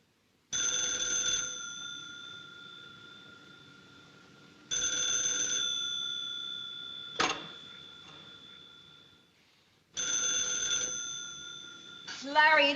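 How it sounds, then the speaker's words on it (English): An old telephone bell in a 1947 film rings in three loud, separate bursts with pauses between them, each a bright metallic trill, and a voice comes in briefly near the end. "it isn't the clock, it's the phone."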